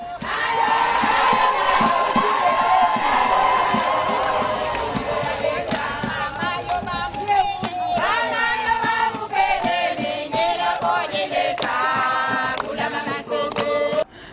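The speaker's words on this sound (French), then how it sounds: "Marie-Olive Lembe Kabila, rassurée par les bonnes conditions qu'offre l'hôpital de référence Jason Sendwe, quitte les lieux sous des acclamations" Crowd cheering and shouting as Marie-Olive Lembe Kabila leaves the Jason Sendwe referral hospital, a loud, dense mass of voices that swells and surges continuously throughout, with bursts of higher-pitched cries rising above the din.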